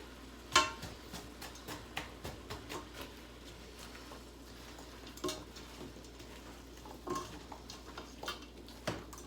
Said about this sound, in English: let's give our vegetables a stir